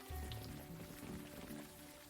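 Soft, continuous rainfall from the video game Unavowed, a faint even hiss of drops with low musical tones humming underneath, no voices.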